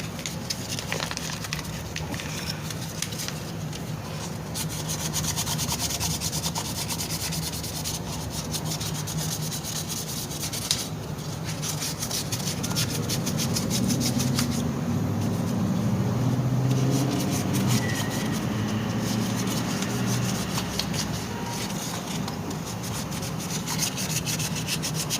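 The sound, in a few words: sanding a surface with light 100-grit sandpaper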